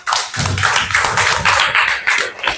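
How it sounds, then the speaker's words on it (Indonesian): A fifth-grade class applauds a student group: dense, loud clapping from many hands, sustained and steady for a couple of seconds, with no talk over it. "kalau begitu kita beri aplaus untuk kelompok apel"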